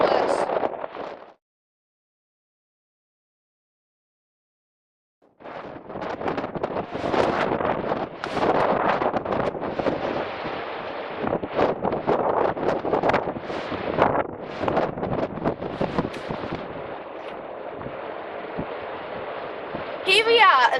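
Wind on a winter hill buffets the microphone in loud, continuous gusts after a short stretch of silence at the start.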